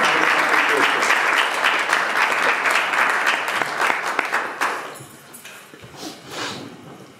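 An audience gives loud, sustained applause welcoming Pastor Marshall Zaman at a Thanksgiving church gathering, dense clapping that holds steady for several seconds before thinning out, with a voice briefly heard as it fades.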